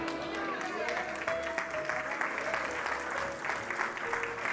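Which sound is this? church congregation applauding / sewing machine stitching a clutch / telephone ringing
church congregation applauding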